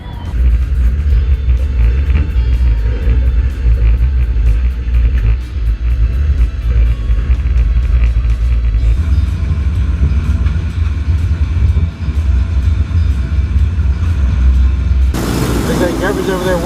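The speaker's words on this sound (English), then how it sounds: "Garbage over there warming up his tires" A race car rumbles loudly as its driver warms the tires before a skid plate demolition race at night with around thirty cars. The heavy low engine drone runs continuously, shifting in tone partway through and again near the end.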